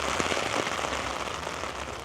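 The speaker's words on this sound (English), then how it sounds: "the rain is truly coming" Rain pours at Magic Kingdom near Cinderella Castle, a dense, steady hiss of drops hitting puddles and pavement, close and continuous with no voices.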